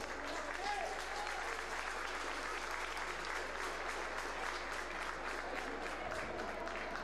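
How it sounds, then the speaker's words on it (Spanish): Sustained applause from a crowd, steady and dense clapping throughout, fairly distant and even in loudness. "el aplauso es para vos"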